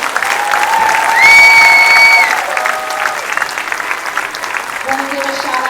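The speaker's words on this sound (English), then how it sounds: "Can we please give them another round of applause?" Steady applause from a crowd at a 4th grade school winter concert fills the clip, with a few sustained whistle-like tones over it and faint voices underneath.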